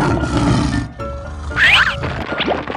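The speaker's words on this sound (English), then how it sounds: "Lion." A short, loud lion roar from a guess-the-animal escape room challenge game, a rough growling burst that rises and falls within a few seconds, heard alone without talk.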